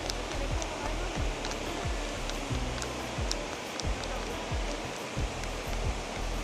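Several waterfalls near Rome send up a steady, broad roar of rushing water that fills the whole stretch without a break, with a faint voice nearby.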